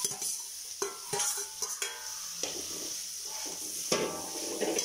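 Sliced onions sauté with garlic-ginger paste in a pan for beef pepper fry, a steady sizzle punctuated by repeated spoon scrapes and knocks against the metal, close and fairly quiet, no talking.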